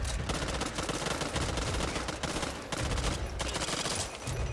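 Rapid gunfire in the zombie shooter Back 4 Blood, a loud continuous burst of automatic shots with dense crackling reports and only brief gaps, no talking over it.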